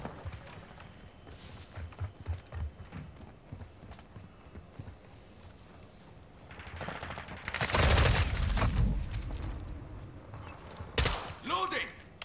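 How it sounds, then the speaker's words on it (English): Gunfire in the Call of Duty Modern Warfare open beta comes as scattered distant shots, then a loud close burst of rapid fire and a later sharp volley, with other game noises in between. "Just shooting each other."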